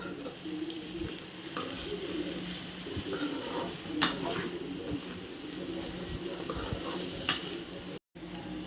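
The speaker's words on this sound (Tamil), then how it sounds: "இப்போ இது எல்லாத்தையுமே நல்லா மிக்ஸ் பண்ணி விட்ருவோம்" Ivy gourd being stirred with salt in a pan, a steady scraping and sizzling churn with spoon knocks against the metal throughout, and a faint voice in the background.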